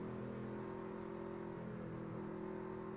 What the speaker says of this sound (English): We hear Oswald keeping that truck bogged down a little bit.